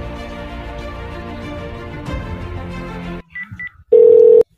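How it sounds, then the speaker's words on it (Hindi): A telephone handset beeps through a few dial tones after a stretch of steady hum, ending with a loud, sustained single tone. "लगता है सीआईडी को फोन करना पड़ेगा।"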